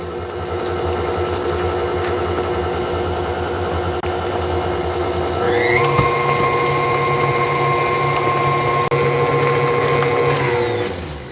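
An electric stand mixer stirs snickerdoodle cookie dough with vanilla and eggs, giving a steady whirring motor hum that climbs to a higher, stronger pitch partway through, then holds there and cuts off near the end.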